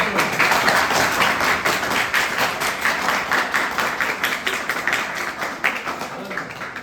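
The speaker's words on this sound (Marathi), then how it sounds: "यात तुमच्या काय तुम्हाला अजून आवडलेलं आहे म्हणून तुम्ही ते टाळ्या वाजवतात" A high school audience at a Savitribai Phule Jayanti speech event breaks into sustained, fairly loud group clapping, its rapid, dense patter holding steady for several seconds with little break.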